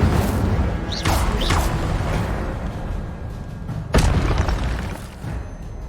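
An Incendio fire spell is cast in Hogwarts Legacy, giving loud, close fiery booms with whooshing bursts: two quick blasts near the start and another strong one later, over a steady rumbling background.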